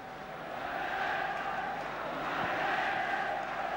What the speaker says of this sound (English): the crowd complained